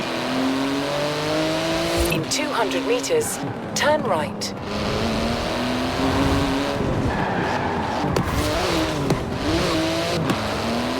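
A street-legal racing car in Forza Horizon 4 revs hard, with rising and falling engine whine through gear changes and brief tire squeal, loud and continuous. A voice speaks over it and a navigation voice gives directions.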